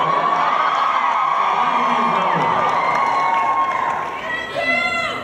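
A large Comic Con panel crowd cheers, whoops and shouts loudly and continuously, fading slightly near the end.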